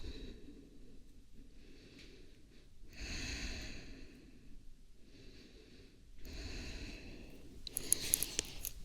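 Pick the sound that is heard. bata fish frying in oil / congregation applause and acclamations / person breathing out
person breathing out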